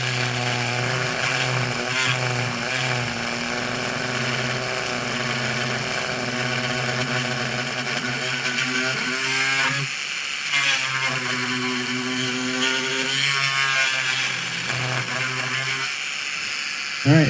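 A power saw cuts through styrene plastic sheet for a wheel well, its loud whining motor droning continuously and shifting pitch as the blade bites and eases off the material.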